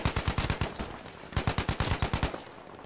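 In Battlefield 5, a Ribeyrolles 1918 rifle fires two rapid automatic bursts, each a fast string of punchy shots, loud and close, with a brief pause between them.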